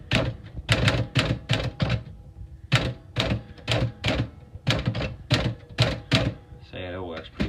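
Keys strike steadily on a Smith Corona 5 series Sterling typewriter. The clacks come in quick close bursts with short pauses between them, and a brief mechanical whir follows at the end.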